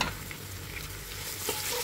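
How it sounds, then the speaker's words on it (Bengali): A short, close burst of stirring and sizzling as carrots, green chilies, onions and spices are tossed and fried together in a pan for chicken mandi biryani. "এখন আমি এখানে পেঁয়াজের সাথে মশলার সাথে গাজরটাকে একটু ভালো করে নেড়ে চেড়ে সামান্য 2-3 মিনিট ভেজে নিব।"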